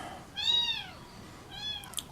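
Two thin, rising-and-falling meows from a small farm kitten, the first louder and longer, the second softer, heard close by in a quiet room.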